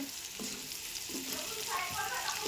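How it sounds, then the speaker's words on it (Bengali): Dried puti fish frying with onion, green chilli, garlic and dried chilli crackles in hot oil, a brief close sizzle broken by a few scraping stirs. "পেঁয়াজ, মরিচ, রসুন, শুকনো মরিচ দিয়ে ভালোভাবে লাল করে ভেজে নিচ্ছি"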